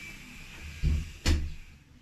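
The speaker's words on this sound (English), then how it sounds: "close the door for your privacy" A door is pushed shut in a quiet room, giving two dull thuds close together, one after another.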